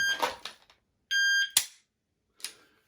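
A shot timer gives one sharp electronic beep, followed immediately by a loud gunshot, with other bangs and clatter nearby.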